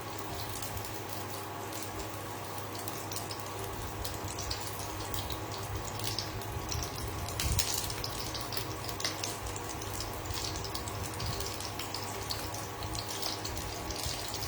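Young pointed gourds (patol) frying in oil in a pan, a steady, continuous soft sizzle and crackle running the whole time with no voices.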